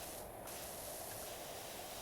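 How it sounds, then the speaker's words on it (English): Pressure washer spraying in the game PowerWash Simulator, a steady hissing jet of water that runs continuously without pause, fairly quiet. "spray it all around"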